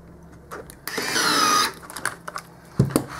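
A cordless drill drives screws into a 1:10 scale Ansmann Macnum 2WD RC car kit, giving one close, steady whir of just under a second, followed by scattered clicks and handling noises.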